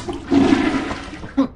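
A toilet flushes in the video game Lethal Company, a loud, close rushing of water over a second and a half with a brief gurgling swell near the end.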